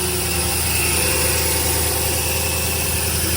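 A 2007 Audi Q7 engine runs loud and close just after starting with its belt fitted wrong, giving a steady, rough idle with a constant mechanical drone.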